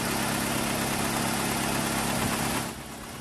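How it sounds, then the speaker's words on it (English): A Toyota four-cylinder engine running smoothly, a steady even hum with constant vibration that drops to a quieter level near the end, no talking. "these engines are still humming along, making their distinctively smooth four-cylinder sound"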